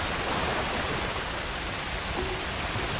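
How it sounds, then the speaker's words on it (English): Waterfall ambience in the video game Red Dead Online, a dense continuous rush of falling water that stays loud and even throughout. "I'm at the waterfall."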